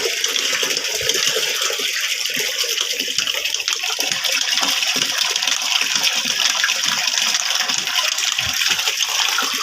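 Water gushes and splashes steadily from a bucket onto eggplant plants in a garden, dissolving urea fertilizer, a continuous loud wash with no talk.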